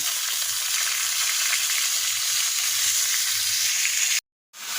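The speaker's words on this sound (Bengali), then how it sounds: "প্যানে তেল গরম করতে দিয়েছি এখন মাছগুলোকে ফ্রাই করে নেব" Pangas fish sizzles steadily in hot oil in a pan, a constant close bright hiss that cuts out briefly to silence near the end before resuming.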